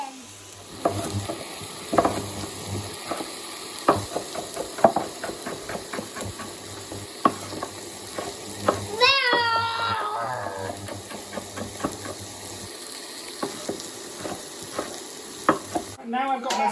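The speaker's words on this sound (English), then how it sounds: "Make sure you keep your peppers and your onions moving because you don't want them burning to the bottom of the pan" Peppers and onions frying in a pan, with a steady soft sizzle and frequent scraping, clattering taps of a utensil as they are stirred, close and fairly quiet, with a low hum underneath.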